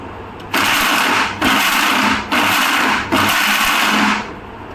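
A kitchen mixer grinder whirring loudly while blending coconut to make coconut oil, switched on in four steady bursts of roughly a second each with brief pauses between.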